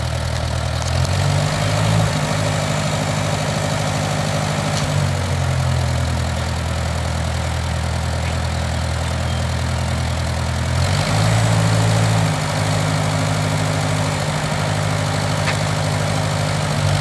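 A restored Cub tractor engine idles with a steady low, throbbing drone, rising briefly to a slightly higher speed twice before settling back, loud and close with no talk.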